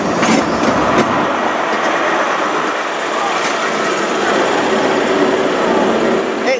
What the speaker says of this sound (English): A1200 Great Western Railway service to Western Supermare, formed of the Sir Kenneth Grange power car again.